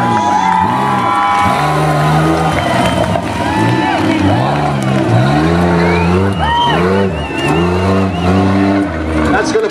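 Tuff truck number 25 drives an off-road course at a Labor Day festival, its engine loudly revving and bogging in rising and falling surges while a crowd cheers and an announcer talks over the whole run.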